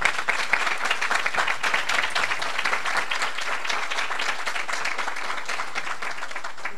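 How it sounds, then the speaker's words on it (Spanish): An academic audience at a seminar on slow slip and tectonic tremor claps in sustained, even applause, a dense steady patter holding at full strength for several seconds. "Les pido un aplauso, por favor."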